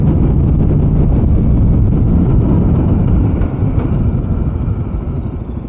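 Kawasaki KLX 300 SM motorcycle engine while riding, a loud, steady engine drone with wind rumble, holding constant and easing slightly toward the end.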